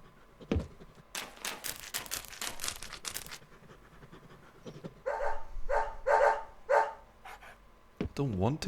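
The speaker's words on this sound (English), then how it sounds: "It's a very suspicious dog." A dog in the video game Deadly Premonition barks in several rapid, close bursts mid-scene, following a run of sharp clicking taps, with brief talk at the start and end.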